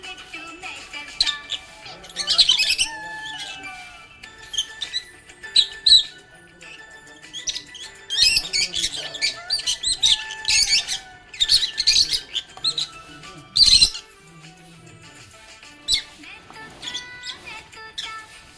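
A pet budgie parrot chirps in quick bright bursts and short squawky runs, close and lively, coming and going over a quieter tonal background.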